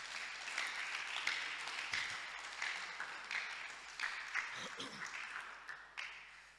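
A church congregation applauding steadily for several seconds, a broad continuous wash of clapping heard from within the crowd, with voices and cheers mixed in.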